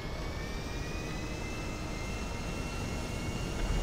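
Airplane engine in a video game, Niko Bellic's plane, a steady jet-like roar with a faint rising whine that holds constant and fairly loud throughout, with no talk.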